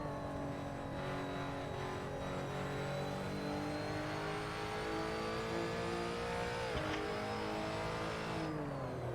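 A Lotus Evora GTC engine revs and accelerates steadily in a racing game at Barcelona, a continuous loud mid-pitched drone with rising harmonics and a brief shift dip near the end.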